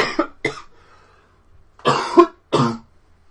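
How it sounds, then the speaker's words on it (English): Four harsh coughs in a podcast recording, two quick ones, a pause, then two more, close to the microphone with no talking in between. "I've been holding in that cough for this whole half an hour"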